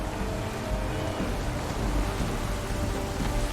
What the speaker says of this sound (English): There's a storm coming, Captain.